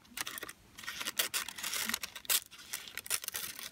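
Cardstock being cut for a light-up tree craft, a close run of crisp snipping and crinkling strokes in an uneven rhythm, moderately quiet, with no voices.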